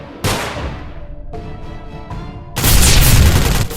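Gunfire exchange in a sound effect: a sharp blast, then a few quicker, lighter shots, and finally a dense, loud burst of overlapping fire that runs on for over a second with nobody speaking.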